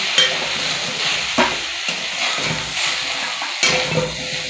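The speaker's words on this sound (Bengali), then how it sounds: "ঢাকা চাপা দিয়ে বেগুনটা আমি ভেজে নিচ্ছি" Eggplant fries in hot oil in a covered pan with a steady loud sizzle, broken by a few scraping stirs of a spatula.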